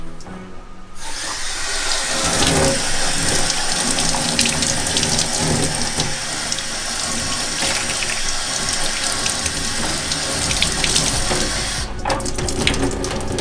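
Tap water runs loudly and continuously into a sink while a python is being washed, a steady close splashing rush that stops briefly near the start and shifts in tone near the end.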